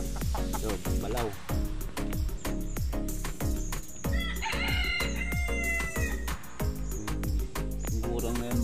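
Gamecock roosters at a fighting-cock farm crow repeatedly and loudly, calls overlapping with clucking against a steady background of farm noise.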